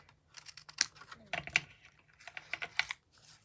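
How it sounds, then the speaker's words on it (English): Snips trim excess paper from a handmade card, giving a quick run of small, close, crisp clicks and snaps over a few seconds. "I'll bring in my snips and just snip off that excess"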